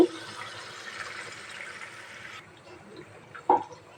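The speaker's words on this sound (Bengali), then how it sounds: "অল্প করে একটু পানি" Water splashes and trickles steadily into a pot of boiled jackfruit and meat for a few seconds, then quiets, with a brief clatter near the end.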